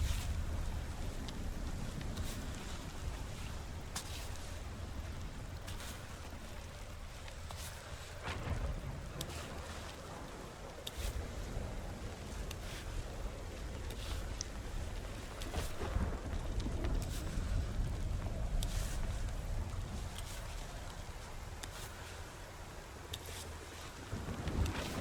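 Rain in the video game Cairn falls as a steady, soft wash of noise with scattered patters and gusty low rumbles, continuous throughout.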